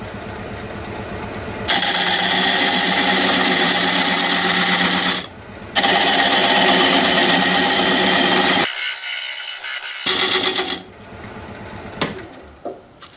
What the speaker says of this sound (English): Now I'm going to use this diamond point tool, square up the sides of the tenon